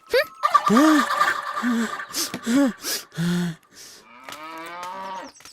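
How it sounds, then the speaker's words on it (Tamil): A cow moos several times in a row, loud and close, with drawn-out calls of varying length and a few breathy snorts between them. "இது பசுமாடு."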